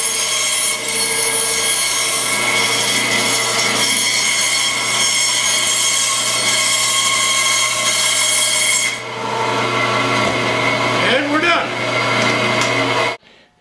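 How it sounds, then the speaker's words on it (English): A bandsaw trims a wooden board, giving a loud, continuous whining drone with a steady hum. Its tone shifts partway through the cut and then stops abruptly at the end. "I don't know once again if you'll hear me over top of the noise of the bandsaw"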